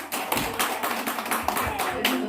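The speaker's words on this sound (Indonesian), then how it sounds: "Kasih tepuk tangan dulu dong." A church congregation at a Saturday service claps hands together in a brisk, uneven run of sharp claps, fairly close, with voices mixed in around them.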